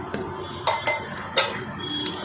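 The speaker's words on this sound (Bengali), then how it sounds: "শুধু একটু নেড়ে চড়ে নামানো" Metal utensil scraping and tapping against a pan while food is stirred, a few irregular clinks over a steady background hiss, close and moderately loud.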